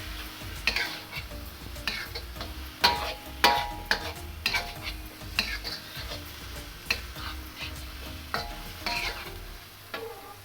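Shrimp curry with celery leaves and spring onions stir-fried in a hot pan in a Thai kitchen: steady sizzling with repeated sharp scrapes and clacks of a utensil against the pan, no voices.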